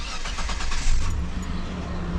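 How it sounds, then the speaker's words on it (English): A 2002 Mitsubishi Montero Sport cranks and catches, its starter whir giving way to a steady, close engine idle rumble with no talking. "Let's go ahead and fire this thing up."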